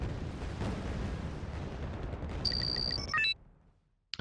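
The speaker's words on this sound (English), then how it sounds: "Sure, shoot at the V150." Video game gunfire in Wargame: Red Dragon aimed at a V150 armored car, a dense rumbling barrage of shots and impacts followed by electronic interface beeps, loud and without talk.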